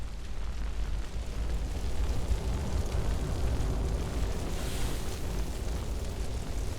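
A fire burning aboard a ship in the game Scrap Mechanic, a steady low roaring rumble with a constant crackling hiss, loud and continuous without any speech.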